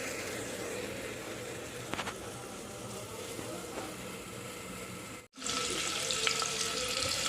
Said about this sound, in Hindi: तो पहले प्याज धो दिलिए